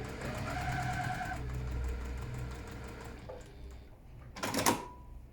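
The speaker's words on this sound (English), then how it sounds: "So I've got 3 pieces under my machine at the moment. I'm just going to finish chain piecing them through." A domestic sewing machine with a quarter-inch foot runs in a steady whirring burst while chain piecing quilt pieces, then stops; a short sharp clunk or snip follows near the end, with no talk.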